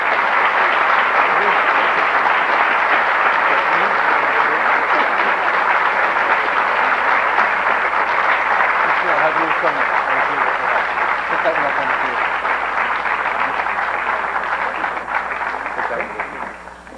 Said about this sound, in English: Let's give our recipients a round of applause